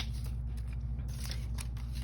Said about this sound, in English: It's just fun to cut things out